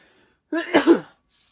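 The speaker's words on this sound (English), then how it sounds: "We got a sneeze coming." A single short sneeze close up, a sharp burst after silence that trails off quickly.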